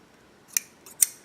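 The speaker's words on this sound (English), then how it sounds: "Make sure you're using fabric scissors, otherwise you'll really struggle." Two crisp snips of fabric scissors cutting fabric, close by, about half a second apart in a quiet room.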